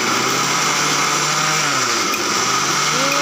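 A mixer grinder whirs steadily at high speed, grinding boiled macaroni into a paste, with a continuous loud motor whine that holds throughout and no pauses.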